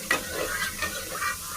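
A spoon stirs freshly poured tempering of fenugreek seeds, onion and curry leaves into a moringa leaf dal curry, giving a close, steady scraping with a soft sizzle throughout.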